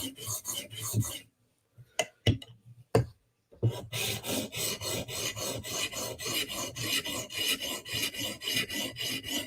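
A knife blade is drawn across a whetstone in quick close rasping strokes: a few separate swipes with pauses at first, then a fast even run of back-and-forth strokes, with no talk.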